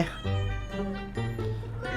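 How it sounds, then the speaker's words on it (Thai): A pet cat meowing indoors, several loud, close, drawn-out meows in a row with short gaps, heard over faint game background. "โอ้ยแมวผมมันมาอยู่ข้างๆผมมาก"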